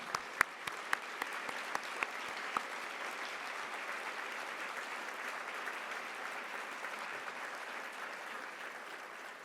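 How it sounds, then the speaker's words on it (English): Audience applause at a charity breakfast event, a dense, steady wash of clapping with a few sharp, louder claps standing out early, sustained evenly throughout. "join me in giving them a round of applause"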